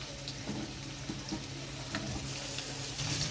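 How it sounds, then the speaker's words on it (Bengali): Potatoes fry in a pan with a black cumin tempering added, giving a soft, steady sizzle with faint crackles and small stirring clicks, quiet and close. "আলুটা হালকা ভাজা ভাজা হয়ে গেছে, এবার আমি এর মধ্যে দিয়ে দিচ্ছি কালো জিরে ফোড়ন"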